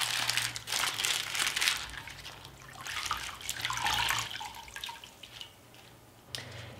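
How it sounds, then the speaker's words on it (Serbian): Tap water runs and splashes onto a crumpled sheet of baking paper being wetted in a kitchen. Bursts of crinkling and dripping rise and fall over a low steady hum, quiet and close, without talk. "i nakvasiti sa vodom."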